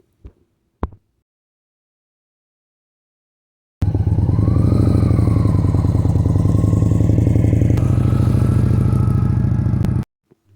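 A motorcycle engine runs steadily and loudly for about six seconds as the bike rides through a U-turn, with a pitch shift partway through and a few short clicks before it starts.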